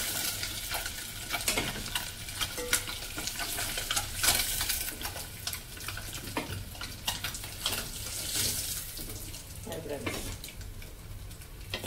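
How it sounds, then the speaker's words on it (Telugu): Eggs frying in a pan while cooking with dried fish, a constant bright sizzle with scraping stirring sounds and occasional louder bursts of spitting oil. "ఇవన్నీ గుడ్లు వేగి తీసేస్తాను."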